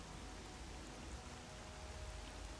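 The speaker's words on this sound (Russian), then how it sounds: "вот дождь, он просто, он такой тупой" Rain falls in the video game S.T.A.L.K.E.R.: Call of Pripyat, a faint, steady hiss of downpour without voices.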